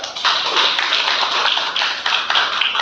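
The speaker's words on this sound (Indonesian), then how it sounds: "Oke, tepuk tangan untuk kamu Pak." A classroom in a teacher-training lesson applauds a participant with dense, steady clapping, loud and close, sustained throughout with slight surges.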